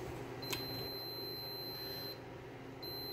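A multimeter gives a faint, steady, high continuity beep while its probes test wiring on a Raptor 700 ATV. The tone breaks off briefly and then sounds again, above a low background hum.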